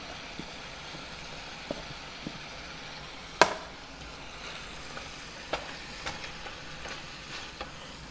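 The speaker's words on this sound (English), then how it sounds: "let the onion cook while the meat is browning" Chopped onion cooks alongside browning meat in a pan for a potluck dish, a low steady sizzle with scattered clicks and one sharp clatter of a utensil, no talking.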